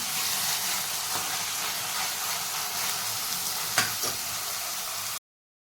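Finely chopped tomatoes cook with browned onion in a pan for whole masoor dal, giving a steady, even sizzle with a couple of brief stirring clinks before it cuts off abruptly.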